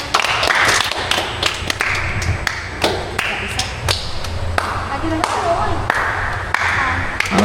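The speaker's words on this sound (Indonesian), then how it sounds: "Boleh cepat tepuk tangan." People in a light show room clapping quickly to trigger sound-sensor lights, a close run of sharp, irregular handclaps with a voice talking over them.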